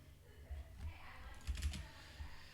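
Keys clatter on a computer keyboard while a mock programming exam answer is typed up, with soft irregular bursts of tapping at close range and no talk over them.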